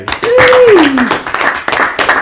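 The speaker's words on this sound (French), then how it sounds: "Applaudissez pour notre frère." Church congregation applauding a hymn singer, a brief burst of clapping under a singing or speaking voice that rises and falls.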